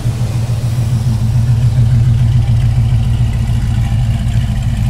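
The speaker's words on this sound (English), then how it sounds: "listen to the exhaust" Chevrolet Camaro with a mild cam, exhaust burbling steadily at idle from behind the car, a loud, even low rumble with no voices.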